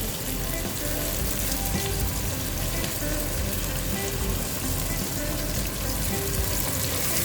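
Coriander, garlic and ginger paste sizzles steadily in a pot of mutton for a butter handi, a dense, continuous frying hiss with no pauses.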